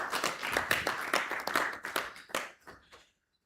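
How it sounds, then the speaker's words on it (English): Applause at a semiconductor investors forum welcoming a university vice-chancellor to the stage: close, sparse hand claps that fade out after about three seconds, leaving silence. "Please let's welcome him with a round of applause"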